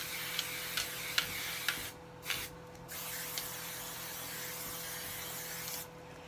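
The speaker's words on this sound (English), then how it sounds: "I'll spray it with some hairspray" Hairspray hisses from an aerosol can in a long, steady blast, broken by a few short pauses, with faint ticks early on.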